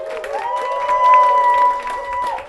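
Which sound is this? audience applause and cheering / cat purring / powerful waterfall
audience applause and cheering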